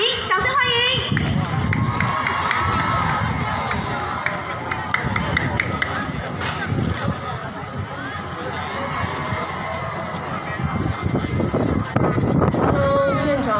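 A crowd at the Taipei Lantern Festival applauds to welcome a singer, a dense patter of clapping over a loud outdoor hubbub, with people talking over it.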